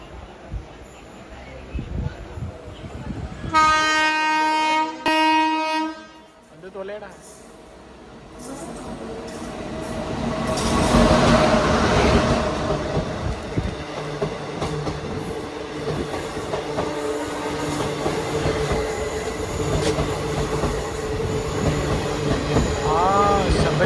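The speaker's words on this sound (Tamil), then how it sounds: "ஏதோ ஒரு ஸ்பெஷல் ட்ரெயின் நினைக்கிறேன் வேக் நைனோட வருது" A garland-decorated special train rumbles past close by on the Coimbatore–Shornur line in India, its heavy rolling roar building and holding, with a brief horn-like tone early on and people talking faintly in the background.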